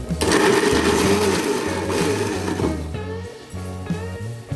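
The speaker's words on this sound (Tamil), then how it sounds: "இதை லைட்டாக நம்ம மிக்சியில் அரைச்சி சேர்த்துக்குவோம்." A mixer grinder whirs loudly grinding sautéed tomatoes, its motor pulsing in short rhythmic bursts, then slowing toward the end.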